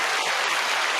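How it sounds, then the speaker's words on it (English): Brief burst of dense crowd applause, steady and loud throughout, with no distinct voices above it. "big applause for her"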